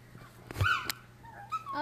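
Playful dogs give short whimpers and a yip or two, close by, in a brief burst over a quiet room.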